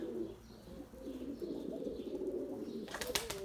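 A pigeon cooing close by in low soft murmurs, ending with a brief flurry of wing flaps as it lands.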